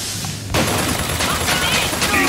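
Turret gunfire erupts suddenly in the game Bioshock Infinite, a loud dense burst of rapid shots that continues steadily after a brief quieter moment.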